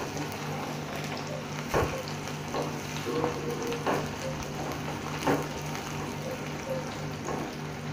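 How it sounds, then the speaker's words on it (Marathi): Chopped onion fries in a kadhai for Marathi-style sukha chicken, a steady close sizzle with occasional clinks and scrapes of stirring throughout. "चांगला त्याला फ्राय करून घ्यायचा आहे।"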